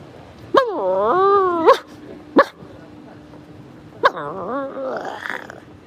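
A small puppy gives two drawn-out, whining yelps followed by a short sharp bark and another rising yelp, close and fairly loud, with faint background noise between the calls.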